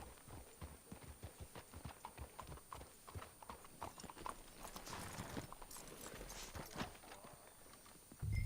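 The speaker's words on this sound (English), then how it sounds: "Let's hitch the horses up ahead." Horses clip-clop in Red Dead Redemption 2, steady hoofbeats that come quickly and evenly at first, then loosen and slow, close and clear, ending with a brief low thud.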